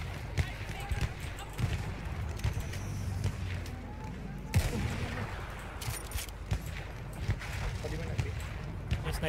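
Gunfire in the World War I shooter Battlefield 1: scattered single shots and bursts crack through a dense, busy battlefield mix, moderately loud, with voices talking over the action throughout.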